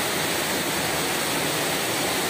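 Strong rushing water in Sumaguing Cave, Sagada, roars as a steady, dense wash of broadband noise throughout, with no voices.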